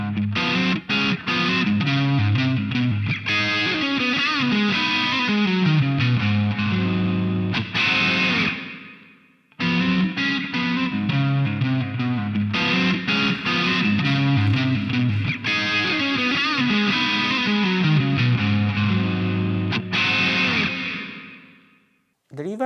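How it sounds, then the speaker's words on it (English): Electric guitar played through the reverb effect of a Mooer GE 150 multi-effects processor, a distorted riff with chords ringing out into a reverb tail, repeated twice with a short gap between, loud and close with no talking. "Pressing this button, you can change the reverb type."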